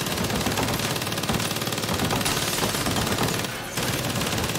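A minigun in the video game Saints Row fires a continuous rapid stream of shots, loud and sustained with one brief dip before it resumes.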